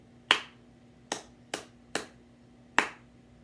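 Five sharp, separate claps in an uneven rhythm, with short pauses between them, crisp and close in an otherwise quiet room.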